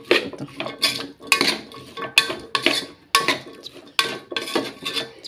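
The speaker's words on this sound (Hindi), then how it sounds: "बटाट बी सगळें फ्राय करून जालें सगळें मिक्स केलें" Potatoes and vegetables are stirred and mixed in a pot for vegetable pulao, giving repeated metallic clinks and scrapes of a spoon against the pot in quick, uneven bursts.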